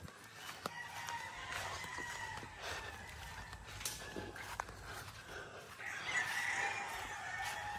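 Faint clucking and calls come from hens on a farm, spread loosely over a soft outdoor background with occasional light knocks, and a slightly louder burst of calls near the end.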